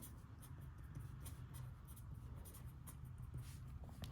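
A pen or pencil scratches out pseudocode by hand on paper, making soft close scraping strokes in short irregular bursts over a faint background, with no speech.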